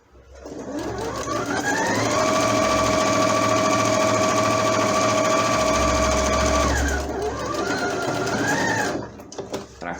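Domestic sewing machine stitching knit fabric at a short 2.5 stitch length: a loud, close, steady whirring run of about six seconds that slows and stops, followed by a brief second burst.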